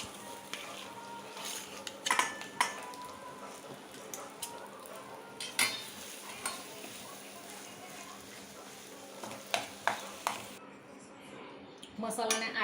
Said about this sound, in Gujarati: મસાલાને આ રીતે બરાબર બટેકામાં મિક્સ કરી દઈશું